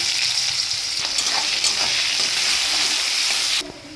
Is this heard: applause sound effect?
no